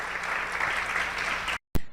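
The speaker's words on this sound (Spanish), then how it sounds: "regalémosle una fuerte ofrenda de palmas a nuestro Padre Celestial" Church congregation at a Spanish-language youth service gives loud, dense applause that fills the room, then stops abruptly and leaves a short silence before a brief sharp sound.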